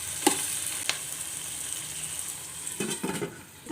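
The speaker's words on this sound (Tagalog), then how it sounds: "guys, haluin ko ulit. Ito, luto na yung kamatis niya." Tomatoes and fish sauté in a pan, a soft steady sizzle punctuated by a few sharp utensil scrapes and clinks as the mix is stirred, close and quiet with no talk.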